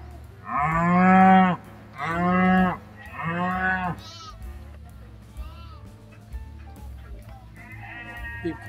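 Cattle moo loudly three times in a row, close by, followed by quieter bleating and mooing calls from animals nearby.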